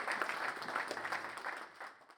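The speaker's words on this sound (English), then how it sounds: "please welcome and a round of applause." Applause from the audience at the opening session of the RICAIP Project Final Conference, a steady, moderately faint patter of clapping that holds for about two seconds and thins toward the end.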